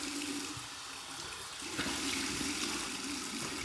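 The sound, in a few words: tap water running for shave rinse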